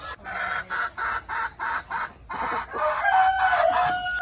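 A run of evenly spaced clucks from chickens, then a rooster crows loudly nearby, with no talking.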